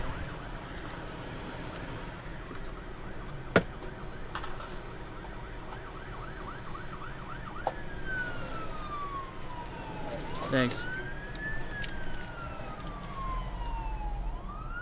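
An ambulance siren wails past outside a car, rising and falling in long sweeps with a faster yelp pattern earlier, growing louder then fading, over road and cabin noise with a brief spoken word.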